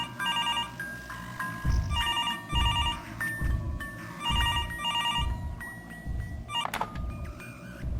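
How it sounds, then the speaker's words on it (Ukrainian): Telephone ringing in the horror video game Mr. Hopp's Playhouse, a repeating electronic ring in regular bursts with short pauses, clear and close over a low ambient hum. "телефон."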